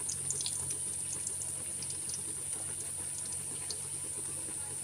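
Potato and flour snack frying in hot oil, a steady dense sizzle and hiss with scattered crackling pops running evenly throughout.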